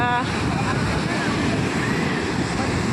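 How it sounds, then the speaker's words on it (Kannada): A steady roar of big surging ocean surf at Panambur Beach, Mangaluru, fills the scene, loud and continuous, with gusty wind buffeting the microphone. "ನೋಡಿ ದೊಡ್ಡ ಅಲೆ ಬರ್ತಾ ಇದೆ ಈಗ"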